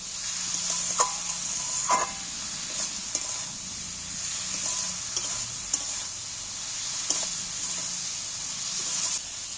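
Spice masala of Kashmiri red chilli and turmeric with tomato sautés in a pan, sizzling steadily up close while a spoon stirs and scrapes now and then; no speech.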